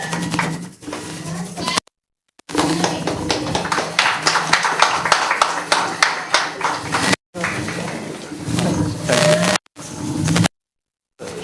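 An audience at a certificate presentation ceremony claps in a dense, rapid burst of applause lasting several seconds, with short silent gaps around it and a voice speaking over the room at times.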